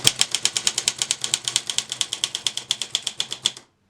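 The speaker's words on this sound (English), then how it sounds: "Say I were to put the margins over here, right, much further, and start typing" A HEMA 44K typewriter being typed on steadily, around eight crisp keystrikes per second in an even, close, loud rhythm for about three and a half seconds, then stopping abruptly into silence.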